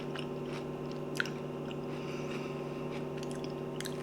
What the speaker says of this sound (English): It's interesting because you don't even realize you're eating watermelon.